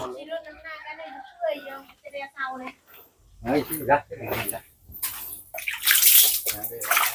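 Tap water running and splashing as hands are washed at a newly connected village water supply, a steady wash of sound that swells louder toward the end, with people talking and exclaiming over it.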